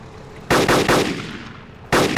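Gunfire in the Arma 2 DayZ mod, loud bursts of several rapid shots, then a pause and another burst, with quieter ambient noise between.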